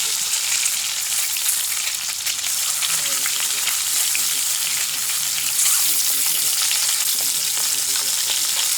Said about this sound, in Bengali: সেই ডিমগুলো এখন আমি ভাজছি